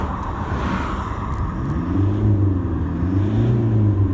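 Steady road traffic rumbles past a parked Toyota Hilux with its windows up, a continuous low engine drone swelling slightly in the second half as vehicles go by, with no talk.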